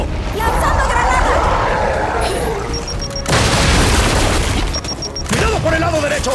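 Grenade blasts and heavy gunfire in Gears 5, loud booming bursts layered over a dense battle din, with a sharp new explosion midway and shouted voices in the mix.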